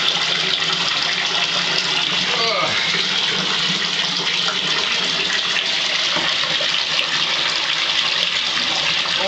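Water in a bathtub gushes and splashes steadily up close, a continuous rushing wash with faint voices underneath.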